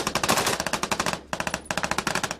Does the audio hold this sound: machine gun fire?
yes